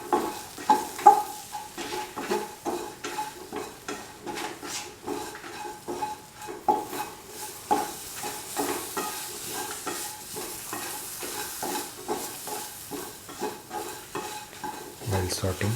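Tomatoes fry in a pan for tofu masala, sizzling softly while a utensil stirs them in a steady rhythm of scrapes and light clinks against the pan.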